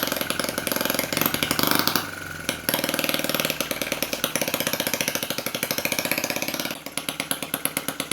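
A Lister D diesel engine runs with its throttle opened, a fast, loud, regular mechanical chugging with sharp rhythmic firing pulses and a brief stumble, heard close up without talk.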